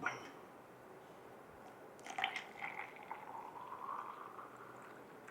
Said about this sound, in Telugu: దీంట్లో కొంచెం బాయిల్డ్ వాటర్,